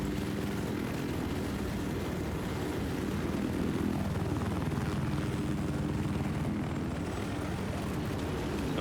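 Little Bird helicopter looping in a video game, a steady close rotor and engine drone that holds loud throughout, with a slight dip and swell in pitch partway through the manoeuvre.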